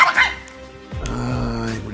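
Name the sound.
small dog barking and growling, Pekingese lapdog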